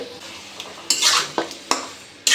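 A spoon stirs chicken coated in cashew paste, ginger-garlic paste, garam masala and yogurt for chicken do pyaza, giving several sharp scraping clanks against a pot at uneven intervals over a quiet background.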